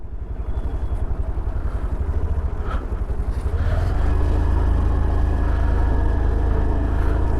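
A scooty's small engine putters steadily as a learner rides slowly through turns, then its drone rises and thickens into a louder, constant hum partway through, close to the microphone with no talking.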